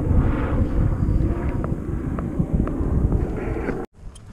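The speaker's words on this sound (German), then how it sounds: "Hubschrauber." A helicopter flies over a via ferrata climbing route on the Mittlerer Eggstock above Braunwald in the Swiss mountains. Its engine makes a loud, steady drone mixed with wind buffeting, and the sound cuts off sharply near the end.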